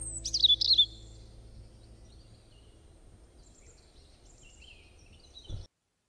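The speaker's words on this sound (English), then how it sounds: "let's listen to the birds" Birds chirp in short high twitters, loudest at the start and then thinner and scattered over a quiet background.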